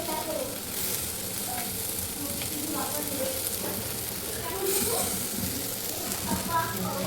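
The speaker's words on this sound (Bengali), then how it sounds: "তেল দিয়ে ভেজে নেব।" Food frying in hot oil in a home kitchen, a steady broadband sizzle running the whole time at moderate level, with faint background sounds and occasional soft clinks.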